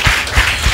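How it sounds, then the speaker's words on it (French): Applause from an audience at a talk on language learning, a dense burst of many hands clapping close and loud, brief and steady. "Est-ce qu'on peut applaudir,"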